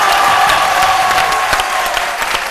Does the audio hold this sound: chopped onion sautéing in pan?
no